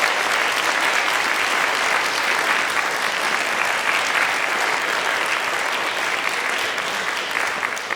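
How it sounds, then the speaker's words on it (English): A concert audience at a synagogue tribute event bursts into sustained, even applause that fills the whole stretch at steady loudness, with no speech over it. "Let's give them a round of applause."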